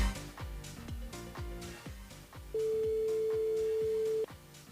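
An outgoing phone call during a live radio show: a single long, steady ringback tone sounds for nearly two seconds over rhythmic background music, loud and clear.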